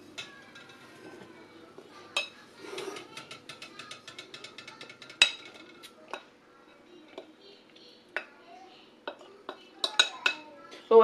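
A cake flour mixture for an oven-free sponge cake being sieved: irregular light tapping and rattling clicks from the sieve, close and fairly soft, with a few sharper knocks scattered throughout and no talking.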